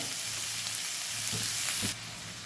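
Crushed garlic crackles in hot oil, a bright, steady sizzle with a couple of spoon taps before it drops to a quieter hiss.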